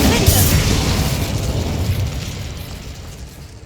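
Incendio fire spell cast in the Hogwarts Legacy video game, a loud burst at the start with a whooshing, rumbling flare that slowly fades over a few seconds.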